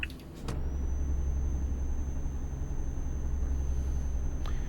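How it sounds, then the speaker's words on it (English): A MAN 320 HP truck in Euro Truck Simulator 2 braking: a steady low engine and road rumble with a thin high whine, opening with a short click. "That's a lot of braking into there."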